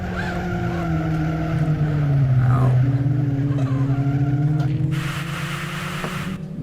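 A race car in the Live For Speed sim racing game drives with a loud, steady engine drone that rises and falls with revs, plus a brief tire squeal and a burst of hiss near the end, heard alone.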